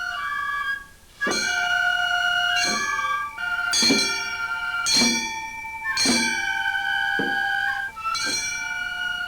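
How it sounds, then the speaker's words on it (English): Festival chimes ring in a steady rhythmic pattern during rehearsals for a Kyoto festival, bright metallic strikes repeating about once a second with a sustained ringing tone between hits, loud and clear. "The rhythmic chimes ring out across the rooftops."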